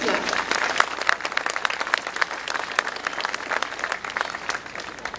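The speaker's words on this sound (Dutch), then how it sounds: "Daar mag je rustig voor klappen." A crowd applauds steadily at a public ceremony marking the reconstruction of the main street in Stadskanaal, dense clapping at close range with some voices mixed in beneath.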